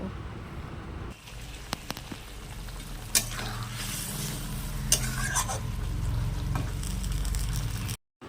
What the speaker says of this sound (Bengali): এবার আমি ভালো মতো মশলাটা কষিয়ে নেব